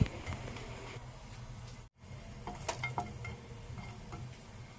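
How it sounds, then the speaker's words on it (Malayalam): Two small pieces of asafoetida sizzle in hot oil for a smoked brinjal curry, giving a faint, scattered crackle and ticking pops that briefly cut out and then resume. "എണ്ണ ചൂടായിട്ടുണ്ട് ഇതിലേക്ക് ചെറിയ രണ്ട് പീസ് കായടാം"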